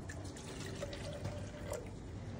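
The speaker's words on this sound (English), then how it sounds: "And now we're going to pour this copper sulfate solution into the copper vessel." Copper sulfate solution is poured into a copper vessel at a chemistry lab bench, giving a faint, steady liquid trickle and splash for a couple of seconds with no talking.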